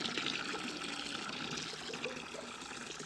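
Water trickles and splashes steadily as it is poured into a chicken waterer, a soft, even stream heard close up for a few seconds without talk.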